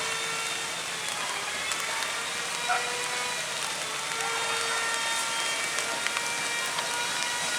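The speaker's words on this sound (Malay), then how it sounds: "hari hujan." Steady, even hiss of rain falling outdoors, continuous and moderately close, with a few faint drips and no voices.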